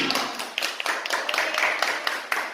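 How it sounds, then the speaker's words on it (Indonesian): Students in a classroom clap for a presenting group, a close, brisk patter of several pairs of hands with uneven rhythmic bursts throughout. "Beri tepuk tangan dulu untuk kelompok pertama."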